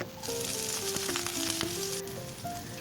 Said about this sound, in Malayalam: ഇനി ഒരു പാത്രത്തിൽ അല്പം എണ്ണ ഒഴിച്ച് പട്ട ഗ്രാമ്പു ഇടാം.